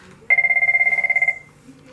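A Cisco 7941 or 7911 IP desk phone on a FreePBX system gives one loud, close, pulsing electronic ring burst of about a second, then falls silent.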